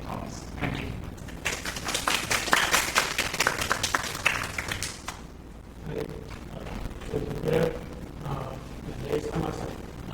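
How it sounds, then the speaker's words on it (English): An audience at a conference applauds before a talk on an open-source Linux disk imaging and cloning tool, a dense wash of clapping that swells and then fades, followed by quieter room sounds and a voice starting to speak. "I'll like a hand of applause, and we can start with Thomas."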